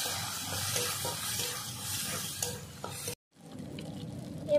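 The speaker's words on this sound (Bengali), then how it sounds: "এখানে একসঙ্গে বেটে নিয়েছি লঙ্কা আর আদা জিরে, গোটা জিরে সব একসঙ্গে দিয়ে দিলাম। ভালো করে আমি ভেজে নেব।" Ground chili, ginger and cumin paste with whole cumin seeds sizzles loudly in hot oil for about three seconds, then cuts out abruptly and returns as a quieter, steady frying hiss.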